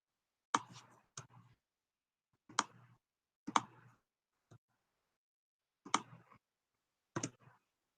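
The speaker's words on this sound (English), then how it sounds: "I'm just clicking in here and backspacing out of here to get rid of all the extra space." Sharp, close clicks from a computer mouse and keyboard keys come in short bursts, some paired or in quick groups of two or three, separated by silent gaps over several seconds.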